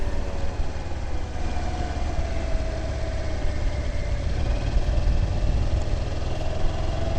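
A Honda DN01 motorcycle winds out in Tiptronic mode on a straight road, its engine a steady, close drone that climbs gradually in pitch, heard alone without talk.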